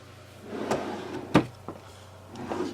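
A sewing drawer in a home craft room being handled, with a few soft knocks and one sharper clack against a steady low electrical hum.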